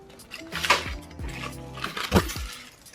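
Crinkling foil being peeled back from cooked beef ribs in a barbecue restaurant kitchen, two sharp rustling bursts with clinks, close and moderately loud, no talking.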